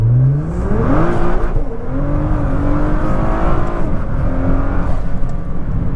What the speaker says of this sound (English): We'll go for a quick pull here, going downhill.